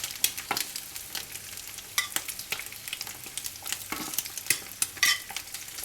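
Strips of wagyu beef bacon frying over medium-high heat in a pan, a steady close sizzle broken by sharp crackles and pops, with no voices.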